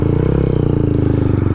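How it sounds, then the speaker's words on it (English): A motorcycle fitted with a DHM 149cc big bore kit idles while warming up, a loud, close, steady rapid engine putter with an even pulsing beat. "So I'm gonna get the bike warmed up"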